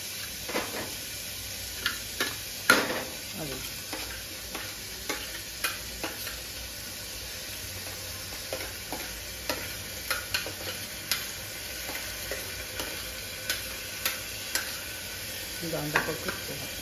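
Green chilies fry in a pan for a diet khichdi, a soft steady sizzle broken by regular light clicks and taps of a spoon stirring against the metal, close and fairly quiet.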